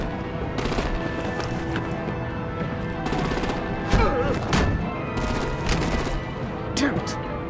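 Rapid machine-gun fire and artillery in Batman: The Enemy Within, bursts of automatic shots rattling on and off, with a few heavier impacts landing partway through.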